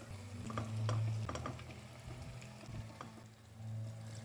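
Beef ribs frying in a pan with sautéed ground kaluak paste for Makassar konro black beef soup: a soft, steady sizzle over a low hum, broken by a few brief clinks and scrapes, with no one talking.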